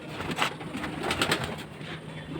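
Madrasi and Giribaj pigeons coo steadily in a loft, a soft continuous murmur of overlapping calls at moderate level with no voices.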